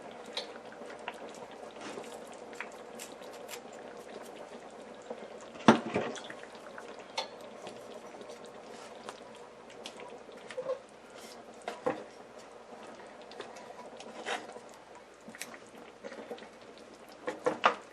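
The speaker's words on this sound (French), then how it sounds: "Je laisse mijoter à feu doux" Tomato stew simmering over low heat in a pot, a steady soft bubbling texture with occasional louder clinks and knocks of a pot or utensil, no voices.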